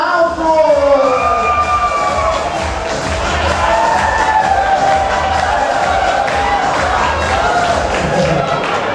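A live audience at a children's comedy matinee show cheers, whoops and claps loudly for about nine seconds, a dense, sustained crowd roar with children's shouts rising above the noise.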